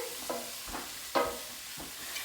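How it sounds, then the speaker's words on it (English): Broccoli with lemon being stirred in a hot pan, a few quick scraping strokes over a soft steady sizzle, close and fairly quiet. "We're gonna give it a quick mix because we just added the lemon."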